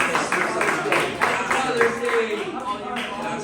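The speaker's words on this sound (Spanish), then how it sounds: "aplauso a todos los padres." A church congregation claps for the fathers, a dense, steady run of applause with voices mixed in.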